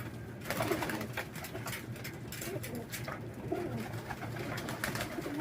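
Pigeons coo low and continuously, with scattered splashes and flutters from birds bathing in water, heard at moderate volume with no talking.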